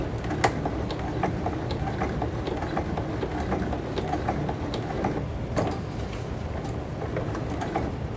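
A Juki HZL-F300 sewing machine stitching through thick layered fabric gives a steady, moderately quiet mechanical whir with a fast ticking needle rhythm, running alone without talk.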